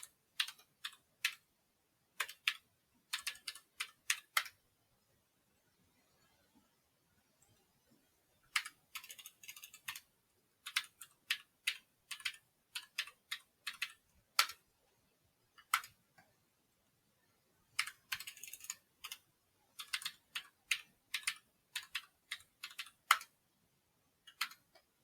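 Typing on a computer keyboard while setting up a home server, quick bursts of light clicky keystrokes separated by pauses, close and quiet with no voices.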